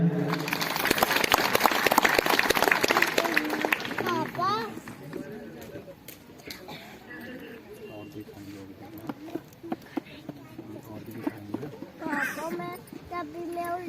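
An audience claps for a donor at a pranayama strength demonstration: a burst of brisk clapping for the first few seconds, then it thins out as someone talks loudly over scattered noise.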